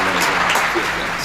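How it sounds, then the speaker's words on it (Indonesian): Applause from an audience at a music performance, short and dense clapping that stays loud and even through the moment, with voices mixed in underneath. "Weh, tepuk tangan dulu dong"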